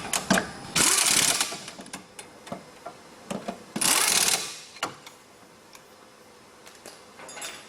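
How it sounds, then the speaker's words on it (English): Impact wrench (rattle gun) tightening wheel nuts during a brake rotor and pad change, two loud buzzing bursts of about a second each with lighter clicks and handling noises between them. "You always use a rattle gun to start with to get these nice and tight"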